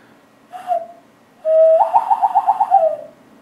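A loon call imitated by blowing through cupped hands: a short hollow hoot, then a longer steady whistled tone that breaks into a rapid fluttering warble before fading, close and fairly loud.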